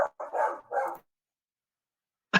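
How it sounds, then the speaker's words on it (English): Dogs bark nearby in a quick burst of three loud barks, then a pause before one more bark at the end, with no speech over them. "Stupid dogs."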